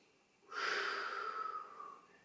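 A single audible breath, a sharp nasal exhale during a yoga stretch in a spinal mobility session, close and fairly quiet, following a moment of near silence.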